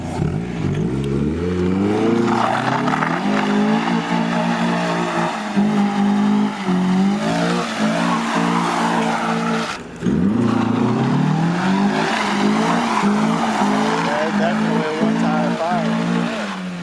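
A Mazda Miata is driven hard with the engine revving up and down and tires squealing through corners, loud and close, with a voice talking over it.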